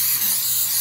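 A Flex Seal aerosol can sprays a drain in one steady, loud, close hiss that runs unbroken through the whole short burst.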